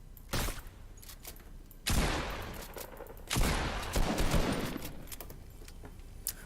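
Video game gunfire from a shotgun and a sniper rifle: three or four loud, sharp shots a second or so apart, each trailing off into a noisy decay, over a steady hissy background.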